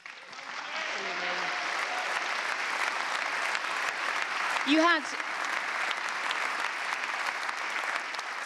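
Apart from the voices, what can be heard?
audience applause at a squash match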